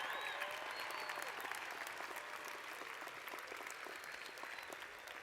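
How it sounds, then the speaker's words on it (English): Sustained applause from a commencement crowd in a large outdoor setting, a steady wash of many hands clapping at a distance with some faint voices mixed in, holding at an even level throughout. "I think that's worth a round of applause"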